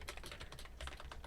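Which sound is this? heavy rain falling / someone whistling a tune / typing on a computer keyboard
typing on a computer keyboard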